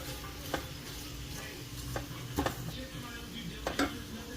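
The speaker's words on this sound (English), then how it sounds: "I'm just going to stir it to get it all kind of coated with that butter" Sliced onion half rings being stirred through melted butter in a pan, with soft scraping and a few sharp utensil knocks against the pan over a low, steady sizzle.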